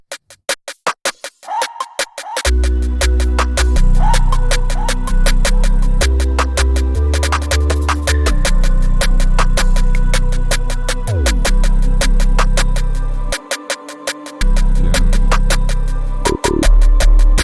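A loud electronic beat with punchy drums and a high, pitched-up snare whose hits echo in short repeating delays, playing continuously without any voices.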